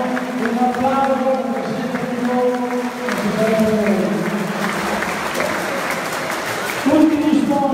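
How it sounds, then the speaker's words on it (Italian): Crowd in a basketball arena at a youth tournament final applauding continuously, clapping under a voice talking over the noise. "grazie a voi, un applauso."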